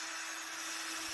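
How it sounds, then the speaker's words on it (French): A drill fitted with a sanding attachment grinds over rusty bodywork on a Ford Transit van, giving a steady, even whirring hum with a broad abrasive hiss, close and uninterrupted for the whole brief moment. "l'embout spécial ponçage, comme vous pouvez le voir, on ponce comme ça."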